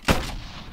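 A single sharp gunshot in the video game BeGone, a loud crack with a short decaying tail.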